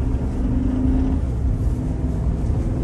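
A stock 2012 Chevy Silverado truck engine idles steadily on an extremely cold day, a constant low rumble with a faint hum, close by and with no talking.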